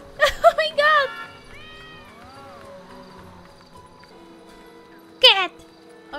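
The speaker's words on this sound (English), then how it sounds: "Cat!" A cat in the video game GTA meows several times in quick succession, with one more meow a few seconds later, over a quiet game soundscape with faint tones.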